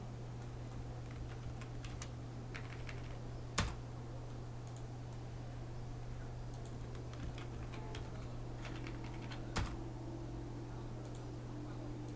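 Soft, fairly steady clicking of computer keyboard keys as a password is typed while setting up Windows 10 in a Hyper-V virtual machine, faint over a constant electrical hum, with two sharper clicks standing out.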